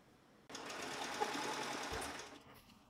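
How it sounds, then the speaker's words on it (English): A sewing machine stitching together pieces of thrifted shirts runs in one steady, even burst of about two seconds, close and fairly quiet, with no talk. "Then I made a stitch along the edge with seam allowance."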